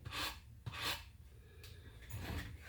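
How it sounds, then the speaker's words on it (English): Sandpaper is rubbed over the edges of a hand-carved wooden rabbit in a few quiet, distinct rasping strokes, close and alone. "Then I just go over the edges here with the sandpaper."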